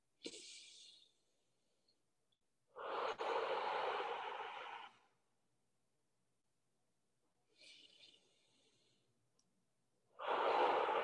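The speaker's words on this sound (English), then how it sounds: "close your eyes, take 3 deep breaths" A group taking slow, deep breaths with eyes closed at a closing gathering, two long airy exhalations separated by quiet pauses and a few fainter breaths in between, with no talking.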